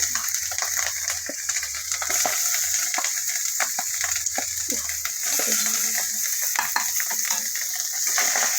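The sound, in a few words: chopped tomatoes added to frying spices in pan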